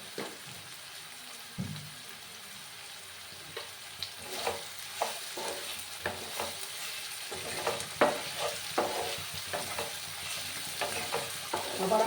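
Sliced onions with a pinch of sugar frying in a pan, a soft steady sizzle under repeated scraping stirs of a spoon, close and moderately loud, with no voices.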